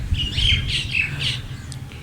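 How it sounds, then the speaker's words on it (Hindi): Caged pigeons chirp and squawk in short repeated bursts over a steady low rumble, fairly close, with no talking. "यहाँ पे जी कबूतरों का पिंजरा है जी"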